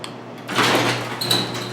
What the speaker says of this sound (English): you can see the garage door behind me and the garage door opener